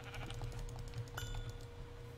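Sheep bleating inside a video game, a few short wavering cries over steady background game noise, fairly quiet and with no talking.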